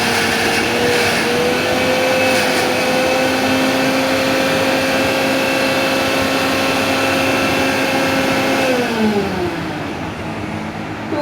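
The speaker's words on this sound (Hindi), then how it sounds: "आपको इसको 2 से 3 मिनट के लिए ऐसे ग्राइंड करना पड़ेगा" A kitchen mixer grinder whirs continuously while grinding momo filling ingredients, a loud steady motor whine with a dropping pitch near the end as it winds down.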